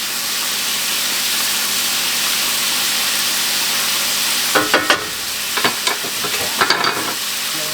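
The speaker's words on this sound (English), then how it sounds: "Start mashing it up. Gotta break all this sausage up." Sausage fries in a pan with a loud, constant sizzle, and a utensil mashes and scrapes it into crumbles in bursts during the second half.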